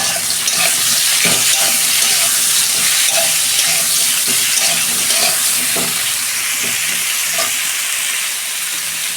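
Spiny gourd (kakrol) pieces fry in hot oil with a steady, loud sizzle, broken by stirring scrapes and small pops throughout.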